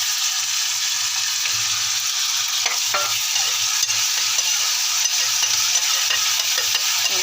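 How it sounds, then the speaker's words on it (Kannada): Tomatoes fry in a pan with a steady, loud, even sizzle throughout, with a few soft stirring scrapes and no talking. "ಟೊಮಾಟೆ ಹಣ್ಣು ಚಲೋ ಹೊತ್ತು ಫ್ರೈ ಆಗಬೇಕು"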